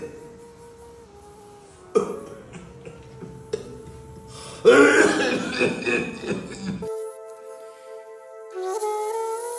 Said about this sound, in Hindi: बाबा, आपकी खांसी नहीं खत्म हो रही। 24 घंटे खांसते रहते हो